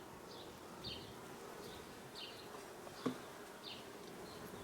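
Honey bees buzz around an opened hive during an inspection, a soft steady hum with individual bees droning past close by now and then, and a faint click partway through, with no talking.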